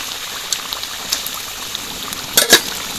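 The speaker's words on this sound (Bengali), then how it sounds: "এবার গ্রেভিটা খুব ভালো করে ফুটে গেছে" Gravy for a Bengali fish curry bubbling in a pan, heard as a soft steady simmer with scattered light pops and a brief louder sputter near the end, no talk.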